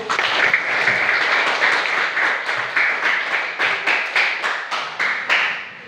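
A classroom of students claps together in loud, sustained applause with a steady rhythm of hand claps that keeps going to the end, with no talking over it.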